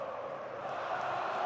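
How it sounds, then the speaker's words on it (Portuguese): Flamengo supporters fill a stadium with a steady crowd roar during the second leg of the 2014 Carioca final against Vasco, a dense, continuous wash of voices that swells slightly toward the end. "E agora a festa da torcida do Flamengo"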